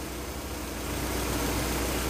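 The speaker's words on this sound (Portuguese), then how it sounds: "Olha o giro do carro modificando, ó. O barulho dele." Car engine with a metal conditioner additive added, running steadily with a low, continuous drone that builds slightly in level over a couple of seconds, no voices present.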